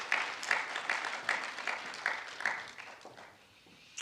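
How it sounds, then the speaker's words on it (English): Scattered applause at a medical college campaign event greets Dr. Tanya Dennis, a middle school executive principal, as she comes up; a small group claps in uneven bursts, fairly close and moderate, tapering off toward the end. "Let's give her a round of applause as she comes."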